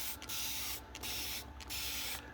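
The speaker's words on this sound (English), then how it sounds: "I just don't spray the air roots, I spray the actual stems too." Worm tea sprayed from a spray bottle onto plant stems, several close hissing bursts separated by brief pauses.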